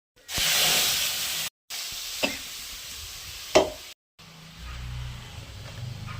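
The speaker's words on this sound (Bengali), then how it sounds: "বড়ি, শুকনো লঙ্কা দিলাম, একটু কালো জিরে ফোড়ন দিলাম" Nigella seeds, lentil dumplings and dried chillies sizzle in hot oil, a steady close hiss of frying broken by brief gaps and a few sharp clinks as the pan is stirred.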